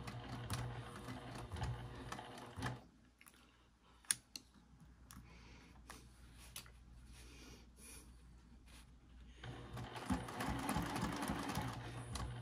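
A sewing machine backstitching a seam on a mini coin and card zipper pouch, heard close up as a rapid mechanical whirring chatter in bursts with a quieter pause in the middle and a few clicks, with no talking.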